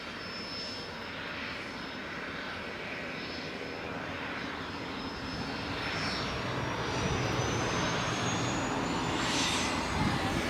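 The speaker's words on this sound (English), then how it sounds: "There goes the BizJet." A business jet at Leeds Bradford Airport roars steadily with a broad rushing noise and a rising high whine, holding loud and constant and building slightly toward the end.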